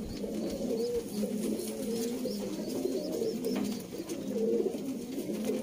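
Sialkoti Shekhan pigeons coo in soft, repeated low rolls, close by and continuous, with faint chirps from other birds behind them.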